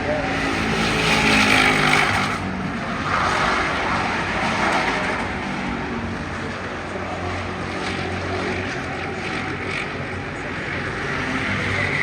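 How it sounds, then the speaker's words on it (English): A race car roars around the track at Bristol in a continuous, loud engine drone that surges slightly early on and holds steady throughout. "Car's running good."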